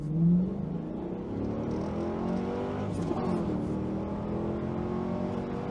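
A 2002 Pontiac Firebird Firehawk pulls hard through a 0 to 60 acceleration run on a slight uphill, its engine note rising steadily and droning loudly inside the cabin as gears climb, with a voice briefly audible at the start.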